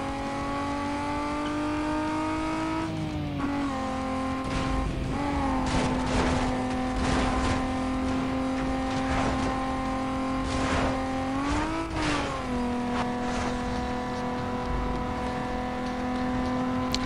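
Racing car engine in Need for Speed Most Wanted drones loudly and steadily throughout, its pitch dipping and rising with gear shifts, under bursts of tire and impact noise with no talk.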